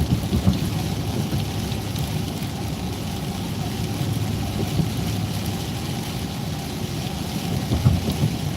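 Thunderstorm during a tornado warning in Minnesota, with steady heavy rain hissing throughout and low rumbling thunder underneath, continuous and close.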